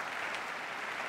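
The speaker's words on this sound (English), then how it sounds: "Mainly Democrats applauded." Lawmakers, mostly Democrats, applaud in a legislative chamber, a steady dense wash of clapping hands at moderate distance, continuous and even throughout with no voices standing out.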